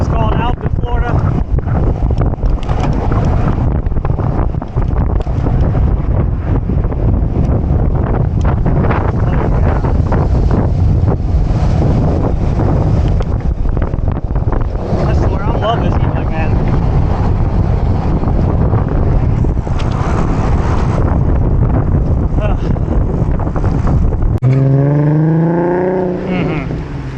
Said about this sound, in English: Look at that wind. Look at that wind.